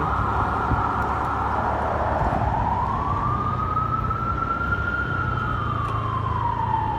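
A police siren wails steadily while passing near a bridge, its pitch rising and falling in a long sweep over a continuous rumble of traffic and a motorcycle ride, clear and fairly close with no talking.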